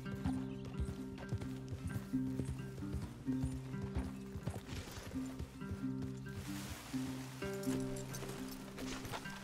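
Horse hooves clip-clopping in Red Dead Redemption 2, a steady plodding rhythm of soft hoof steps over ground with rustling and low musical tones underneath, fairly quiet overall.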